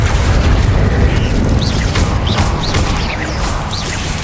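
Confringo blasting spell in Hogwarts Legacy, a loud continuous rumbling boom with crashing explosion noise and faint whooshing effects layered on top.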